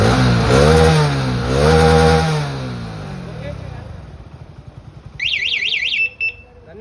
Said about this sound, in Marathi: गाडी स्टार्ट झाली.